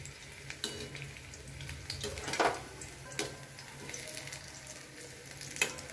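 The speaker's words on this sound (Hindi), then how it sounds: "इस तरह से हम सारे अनियन रिंग्स फ्राई करके, डीप फ्राई करके रख लेंगे।" Onion rings deep frying in oil over a medium gas flame, a steady close sizzle and crackle with occasional brief clinks or stirring sounds, no talking.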